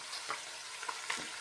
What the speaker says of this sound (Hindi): गार्लिक और जिंजर को अच्छे से डाल के मैं भूनूँगी